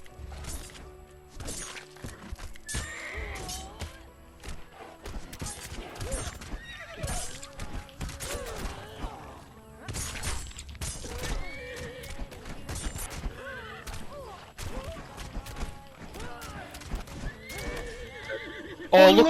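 A horse in a video game neighs repeatedly among rapid clip-clopping hoofbeats and scattered combat crashes and thwacks, busy and fairly loud throughout, with occasional voices.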